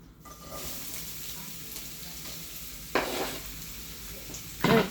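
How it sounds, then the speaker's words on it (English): Diced shallot in a pan for risotto, a soft steady sizzle throughout with a couple of brief utensil scrapes and clatters against the pan. "I'm going to sear this, but very lightly so that these shallots are translucent"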